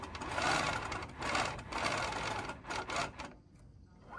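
Longarm quilting machine fitted with a ruler base, stitching back and forth a couple of times, giving a soft, fairly quiet mechanical whirring in several short runs that stops near the end.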